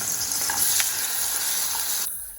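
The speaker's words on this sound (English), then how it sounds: "And then you just fry it up in a little bit of oil" Food fries in a little oil for a Ghanaian breakfast, a steady hissing sizzle with a couple of faint pops that cuts off abruptly near the end.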